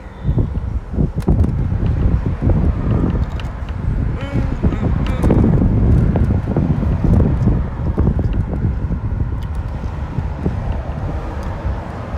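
Outdoor wind on an 80° day at a seafood spot buffets the microphone with a steady, loud, low rumble that lasts throughout, with faint voices mixed in.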